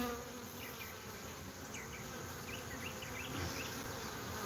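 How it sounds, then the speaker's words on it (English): Honeybees buzzing steadily around a backyard feeder while workers try to push out a drone, a continuous close insect drone with scattered higher whines from individual bees passing by. "But the bees are they kicking out a drone right there?"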